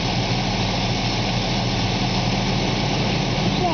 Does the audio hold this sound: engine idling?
yes